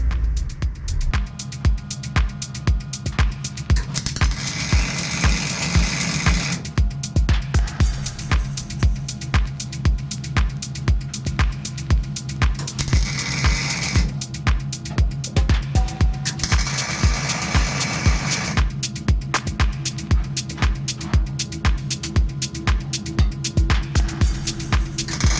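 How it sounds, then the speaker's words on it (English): Welding a companion bin into an Austin Mini, heard as a steady, loud, rapidly pulsing crackle and buzz from the welder that runs throughout, with brief changes in tone. "So now let's get this welded in."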